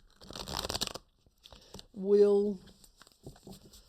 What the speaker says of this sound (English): let's give this another shuffle.